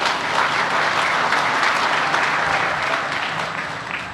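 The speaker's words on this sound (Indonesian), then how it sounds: "Tepuk tangan untuk beliau." A crowd applauds the President of the Republic of Indonesia at a formal event, with dense, steady clapping that holds for about four seconds before easing off slightly at the end.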